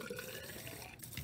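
Water spills over the spout of a filled displacement tank in a lab demonstration, a faint continuous trickling and splashing.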